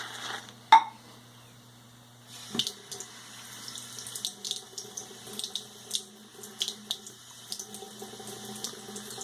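Water runs from a tap in a thin, steady stream while shaving lather is built in a bowl with a soft brush, with small clinks, splashes and wet brushing sounds scattered over it, close by.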